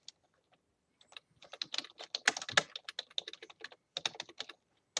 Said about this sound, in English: then you just type in your topic